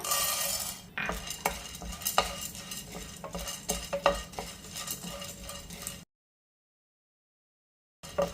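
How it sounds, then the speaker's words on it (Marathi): A spatula scrapes and stirs repeatedly as sesame seeds and lentils dry-roast in a pan, with scattered clinks and light sizzling, followed by a stretch of silence before the noise resumes. "आपण तव्यावरती हे तीळ आणि डाळ शेकून घेऊया पॅनवरती डाळ भाजून घेऊया"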